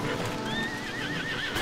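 Horses pulling a royal carriage through a storm neigh with a long wavering whinny over clip-clopping hooves and dense, rushing noise, steady and fairly loud throughout.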